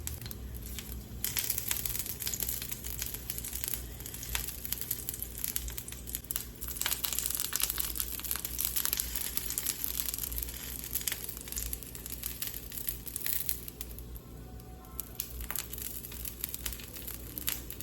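Ingredients for salsa verde crackle and pop as they toast in a hot pan, a dense, steady crinkling sizzle running close and fairly loud throughout with no talk.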